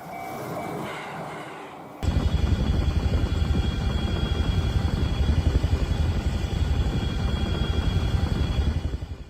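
A helicopter hovers low over a burning railway track to douse the fire. Its heavy, thudding rotor roar is loud and close, kicking in abruptly after two quieter seconds and holding steady to the end, with no talking.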